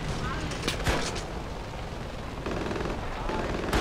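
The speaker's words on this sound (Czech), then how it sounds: "Dívej se kam na mě střílí," Gunfire in a Far Cry 4 multiplayer match: a few sharp, scattered shots crack over a dense, steady wash of battle noise, loudest near the start and the end.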